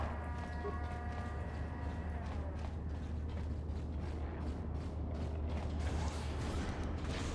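A door and elevator mechanism in Star Wars KOTOR grind and creak with a deep continuous rumble and rhythmic mechanical clunks, loud and close, with no voices.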